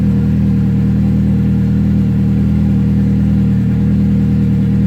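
A cold Hyundai Tiburon engine idles rich just after starting, a steady loud low rumble with a fast even clatter running through it, close and unbroken, with no voices.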